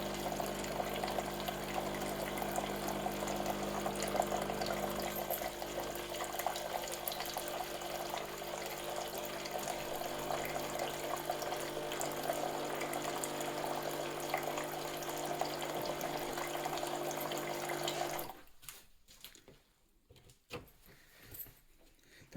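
A coffee machine pours out water continuously during its cleaning rinse cycle, a steady loud gushing stream that stops abruptly near the end, leaving quieter residual noise.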